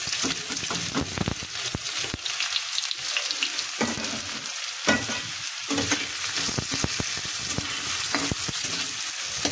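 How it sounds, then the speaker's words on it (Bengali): Onion and garlic with cumin and nigella seeds fry in hot oil for a kochur loti dish, a loud, close, crackling sizzle with frequent scraping stirs throughout and no talk. "এটা একটু ভাজা ভাজা করে নেব।"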